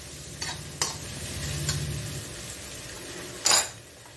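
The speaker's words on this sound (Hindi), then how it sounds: "प्याज को हमें ज्यादा ब्राउन नहीं करना है" Onions fry softly in a pan, a low sizzle under a few sharp clinks and scrapes of a spoon against the metal, the loudest clatter coming near the end.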